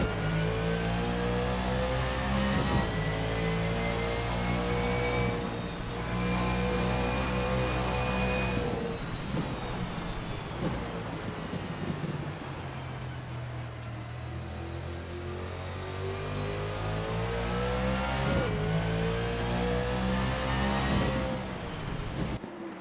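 Chevrolet Camaro Z28 race car, a 1989 IMSA GTO machine in a racing video game at Daytona Road Course, drones steadily for over twenty seconds, its engine note rising and falling with gear changes and throttle, loud and continuous with no talk.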